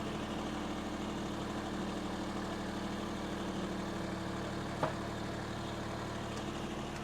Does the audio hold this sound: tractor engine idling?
yes